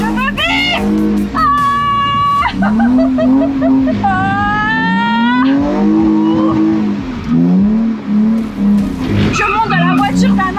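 A Lamborghini on a race circuit roars close by as its engine revs rise and fall, and tires squeal in long drifting slides, with people talking excitedly inside the car.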